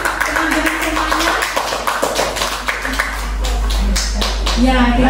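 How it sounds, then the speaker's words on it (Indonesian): A group of teachers clapping hands during a workshop session, a brisk patter of claps mixed with people talking over it. "Bu Nifta dan Bu Tria, silakan beri tepuk tangan teman-teman semuanya."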